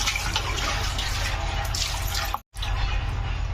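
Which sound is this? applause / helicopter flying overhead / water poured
water poured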